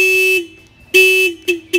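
An Acura NSX car alarm blares loudly nearby in a long tone, pauses, then sounds again with a long blast and two short chirps.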